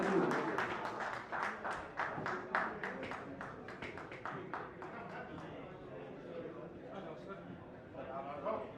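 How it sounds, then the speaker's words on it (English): Audience applause at the DMECA NCR Fest 2024, a scattered burst of clapping that thins out over several seconds under voices talking. "applause for Satyajit."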